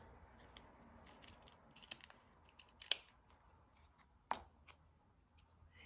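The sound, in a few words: scissors trimming paper specimen card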